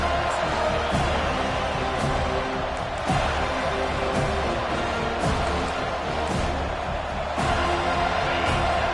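Stadium crowd noise in a college football video game, Florida State against Florida, a steady dense roar of cheering fans with scattered swells and shouts throughout.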